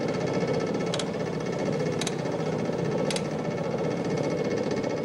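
An engine runs steadily at a traditional scythe forge with a hammer, giving a continuous mechanical drone with three brief, evenly spaced sharp clicks about a second apart.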